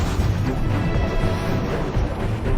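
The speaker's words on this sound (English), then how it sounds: "With a single upward surge, the frozen ceiling shatters into light and air." A frozen ice ceiling shatters in a dense, roaring crash that rumbles continuously and loudly without pause, heavy low-end crunching filling the short span.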